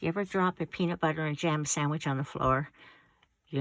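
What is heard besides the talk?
No distinct noise like a dog, phone or traffic.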